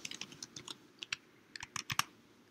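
Bursts of quick keystrokes on a computer keyboard, close but quiet, typing short runs of text with brief pauses between them.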